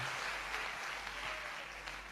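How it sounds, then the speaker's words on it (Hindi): Steady applause from an audience in an assembly hall, a continuous wash of clapping at moderate level with no voices standing out. "पूरा सदन तालियां बजाइए"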